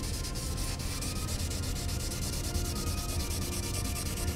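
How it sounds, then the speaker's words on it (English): Hand sanding a motorcycle bikini fairing on a 1986 Yamaha FZR restoration, with sandpaper rubbing in steady, quick back-and-forth strokes, close and fairly quiet with no talk. "sanding this part is a big job"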